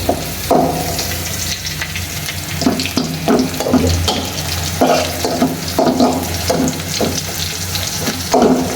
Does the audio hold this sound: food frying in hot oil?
yes